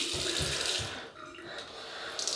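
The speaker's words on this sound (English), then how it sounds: "So I've just added a bit of water to that." Water trickles from a tap onto lemon and lime shaving soap for a wet shave, a soft continuous splashing and hiss that briefly dips before running on, quiet and close with no voices.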